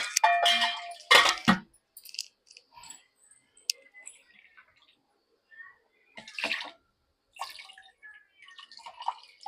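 Water is poured into a mixer jar in short, uneven splashes and trickles, with quiet gaps and small clicks between pours.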